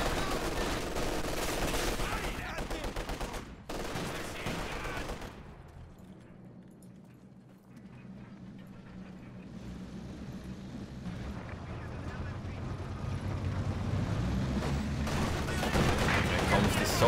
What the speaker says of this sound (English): Sturmpanther keeps just moving the machine guns into firing range